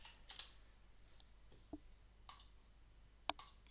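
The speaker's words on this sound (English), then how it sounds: "Keyboard." A few sparse clicks from typing on a computer keyboard, isolated key taps spread out with long pauses between them, faint and close against quiet room hiss.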